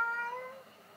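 A single close cat meow, clear and tonal, trails off over about a second in a quiet room.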